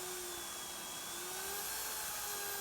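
The motor of a Lidl PTBMOD 710 A1 pillar drill runs with a steady whine whose pitch drifts slightly up and down, faint and unbroken, with no talking.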